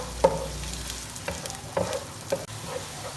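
Two medium onions, cut up, frying in oil toward golden brown for mutton korma; a close, steady sizzle broken by a few sharp spoon clinks as they are stirred.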